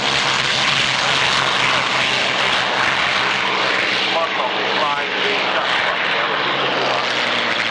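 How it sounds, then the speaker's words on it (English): A P-51 Mustang warbird roars past at a warbird airshow on an airfield, a loud continuous propeller-engine drone that fills the whole stretch while a commentator talks over it. "There goes the Intrepid Aviation Mustang."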